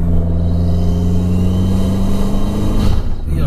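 A modified Abarth 595 Competizione pulls hard from low speed, its engine a loud, steady droning rumble heard from inside the car, pitch holding then shifting briefly near the end as it changes gear.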